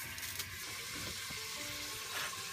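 Pork pieces seasoned with salt and pepper fry in oil in a pan, giving a steady, close, broadband sizzle with light crackle that runs throughout.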